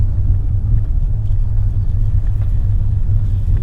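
A 2016 Volkswagen Tiguan 2.0 TSI with 180 hp cruising over a rough road, a loud steady low cabin rumble with droning engine and tire noise and faint bumps, with no speech.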